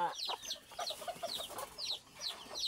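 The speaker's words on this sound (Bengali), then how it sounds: "দেশি মুরগির বাচ্চা" Desi hens and their newly hatched chicks on a farm, with soft repeated clucks and thin high peeping calls at a low, steady level and no voices.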